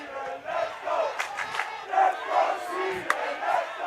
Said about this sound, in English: The crowd, both sides are cheering.